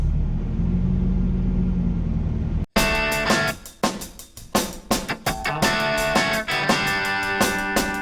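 A pickup truck carrying a camper pulls away and drives off on a hot, humid day in northwest Tennessee. A steady low engine rumble comes first, then after a sharp break the clip is busier, with repeated louder bursts and clicks over the motor.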